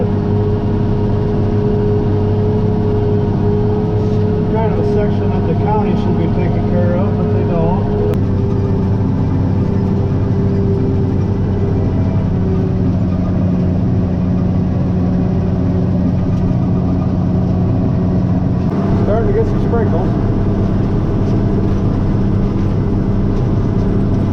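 Steady engine drone of a mower cutting through a ravine thick with Canadian thistles and nettles, loud and continuous with a constant low hum and occasional faint rattling, no talk over it.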